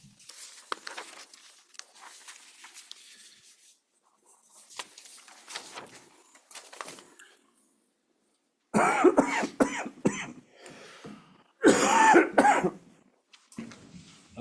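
Someone coughs several times during a commissioners court meeting, with two loud, harsh bursts in the second half after quieter rustling and scratching sounds nearby.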